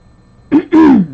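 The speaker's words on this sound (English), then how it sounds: "I'm still clearing my throat" A person clears their throat twice, a short rasp followed by a longer, deeper one, close and loud.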